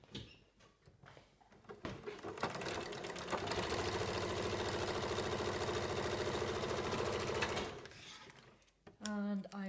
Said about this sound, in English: The very first thing I'm doing, I'm joining it end to end with a centimetre seam.